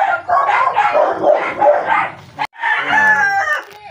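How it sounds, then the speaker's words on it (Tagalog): A rooster crows loudly and close by, with a second long harmonic call after a brief break, amid barking and other animal noise. "Yan ang training ang manok ni Titi Jere"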